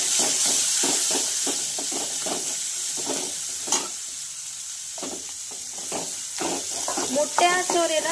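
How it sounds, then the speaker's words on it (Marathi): Chopped onion frying in a pan for sambar after mustard seeds have crackled, a steady close sizzle with stirring, under a person speaking. "सोबतच घालायचं आहे आपल्याला एक चॉप केलेला कांदा आणि छान असं फ्राय करून घ्यायचं आहे याला"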